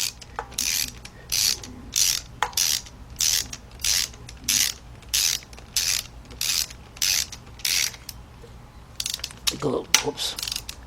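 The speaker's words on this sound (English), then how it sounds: "tighten up the 1 bolt way down in here that's holding on into that pipe" Ratchet wrench tightening a bolt deep in the engine bay of a 2006 Kia Sportage 2.7, holding a pipe in place: about a dozen rapid, evenly spaced clicking bursts, close and clear, then a brief clunk near the end.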